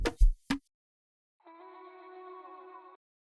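A sampled vocal chop for beat making plays as one sustained, steady sung tone for about a second and a half after a few short clicks, clean and moderately quiet.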